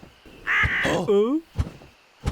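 In a Tamil comedy cartoon, a crow-like bird gives a loud, drawn-out caw that slides downward, with animated character speech around it and a few sharp thumps after.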